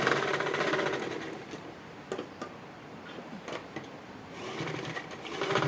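A sewing machine runs steadily while stitching a baby frock from thick fabric, a continuous close mechanical whir with brief ticking bursts and slight speed changes throughout.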